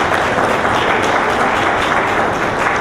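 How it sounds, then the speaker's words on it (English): A conference audience at a diaspora engagement event gives a loud, close round of applause to an honored guest speaker, a thick, continuous clatter of many hands with no talk over it. "Let's give another round of applause for Honorable Gail Teixeira."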